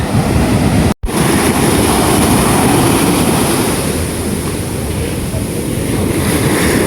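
Loud, continuous roar of rough surf with heavy wind buffeting the microphone, steady throughout apart from a brief dropout near the start.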